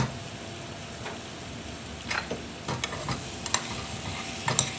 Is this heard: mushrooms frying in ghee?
yes